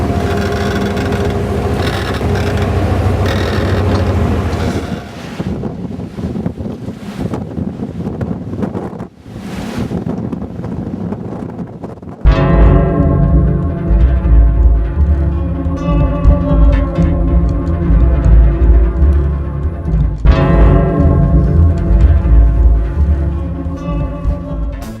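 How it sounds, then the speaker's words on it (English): Wind buffets the microphone on a rowing boat in rough, confused seas, with a constant gusty roar and water rushing and slapping; an engine-like drone joins loudly partway through. "we came across some nasty seas coming from all different directions."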